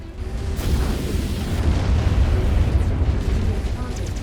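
Missile launcher explosions in the MechWarrior 5 video game, with a rapid series of deep booms and bursts rolling together into a continuous loud rumble.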